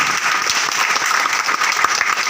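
Hearty audience applause at a business recognition and award seminar in Bathinda, a dense, steady burst of many hands clapping close by with no talk over it.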